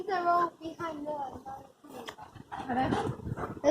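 A dog whimpers and makes short whiny vocal sounds close by, mixed with soft voices talking over it.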